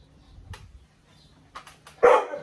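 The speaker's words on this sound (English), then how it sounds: "it's inevitable that the dog's gonna bark on this" A dog barking near a chainsaw: a few faint yips, then one sharp, louder bark at the end, close to quiet surroundings.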